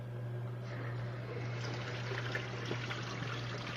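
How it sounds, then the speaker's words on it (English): Tap water runs steadily through a diatom filter into a sink, a quiet continuous pour and trickle over a low electrical hum, with no talking. "With the outlet hooked onto the sink, to the tap, you now turn on the water."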